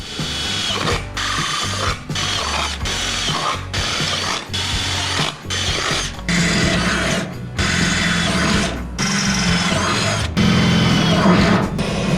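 A power drill whirs in repeated bursts into the rear wheel tub and lower quarter panel metal of a Ford Landau Coupe, each run lasting about a second or two with short pauses between, close and loud.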